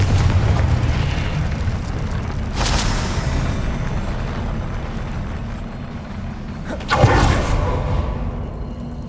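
Confringo blasting spells in Hogwarts Legacy burst twice as loud, broad booms about four seconds apart, each rising sharply out of a steady rumbling game backdrop.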